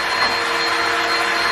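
Vacuum cleaner running with a steady, loud, broadband whooshing roar and a constant motor whine, close and unbroken, with no talking over it.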